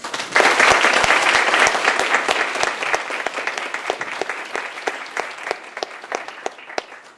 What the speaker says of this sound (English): Can I give our panel a round of applause?